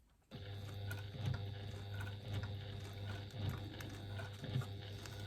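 A sewing machine stitches a wristlet slowly and carefully at a 1/8-inch seam, giving a steady close mechanical hum with a few louder pulses of needle clatter along the way.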